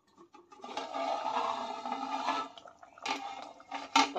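Bombay duck fish (bombil) being rubbed and washed by hand in a bowl of water, with steady close splashing and sloshing for a couple of seconds, a brief pause, then a few more louder swishes and drips.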